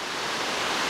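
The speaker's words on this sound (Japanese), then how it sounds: "これがダレイの滝ってやつですね" The Darei waterfall in Nishizawa Gorge gives a steady, dense roar of falling water, heard as an unbroken rushing wash at a constant level, with no voices.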